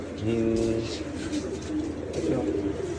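Pigeons coo in low, throaty repeated calls close by, with faint background murmur underneath.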